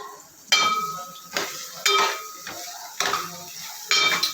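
Tomato egg curry stirred in a pan, a utensil scraping and clinking against the metal in four or five separate close strokes, with a faint sizzle underneath and no talk.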